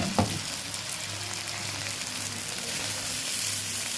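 Onion and vermicelli fry in a pan for an Egyptian rice dish, a steady close sizzle with a low hum underneath and one brief clatter near the start.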